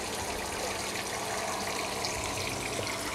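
Water steadily filling a homemade koi pond biological filter packed with scouring pads, a constant soft gushing and trickling wash that stays even and moderately quiet throughout.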